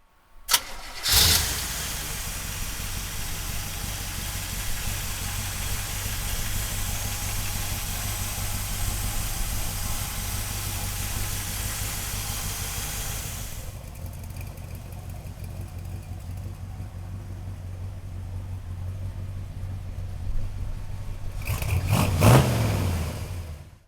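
A 1967 Chevrolet Corvette with a 327 engine cranks and catches with a sharp start, settles into a steady, rumbling idle, then revs in a short burst near the end, heard close and without talk.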